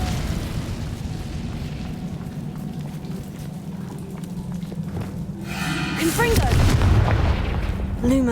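An Incendio fire spell cast in Hogwarts Legacy, a loud whooshing burst of flame that swells near the end over a steady crackling, rain-like background, with a few brief tonal chimes.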